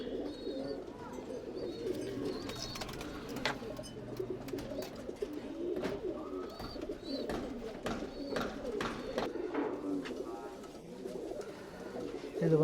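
Tumbler pigeons coo steadily in a loft in Bangalore, several birds overlapping in soft, continuous murmuring with occasional louder calls and faint chirps, a voice speaking faintly underneath.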